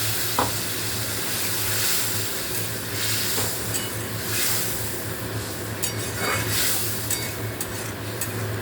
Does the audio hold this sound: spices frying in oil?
yes